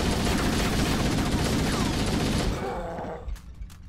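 Gunfire in Halo: Combat Evolved comes as a dense, loud burst of rapid shots that fills the first few seconds, then thins out into scattered faint pops as the fighting dies down.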